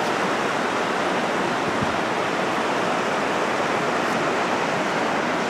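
A river running through a bend, heard as a steady, dense rushing roar of flowing water that stays loud and unbroken for several seconds, with no voices.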